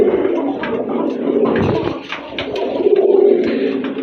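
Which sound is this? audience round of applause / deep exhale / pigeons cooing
pigeons cooing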